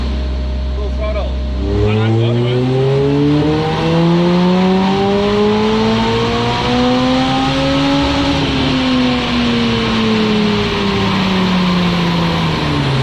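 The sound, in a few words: Lotus car engine at full throttle on a dyno run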